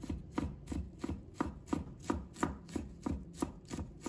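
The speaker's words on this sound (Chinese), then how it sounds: "接下来我们准备一块生姜，把它切成片，再切成丝，" A knife chops fresh ginger on a cutting board in a quick, even rhythm, about a dozen crisp close knocks roughly three per second, alone with no voices.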